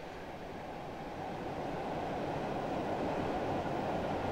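Steam train in Train Sim rolling along with a dense, steady rushing roar, growing slightly louder and continuing alone without speech.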